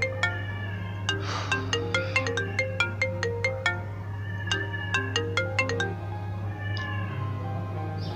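A mobile phone ringtone plays a bright, repeating electronic melody in two phrases, moderately loud over a steady low hum, then goes quiet near the end.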